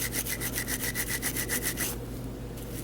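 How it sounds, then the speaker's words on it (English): Scotch-Brite pad lightly scrubbing the face of a revolver cylinder to remove burn rings, a quick rhythmic back-and-forth rasp of about a dozen close strokes that stops partway, leaving a low steady hum. "just lightly scrub that with the Scotch-Brite pad"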